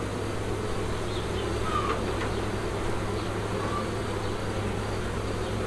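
Honeybees buzzing at an open beehive, a dense, continuous hum from many bees, close and steady throughout.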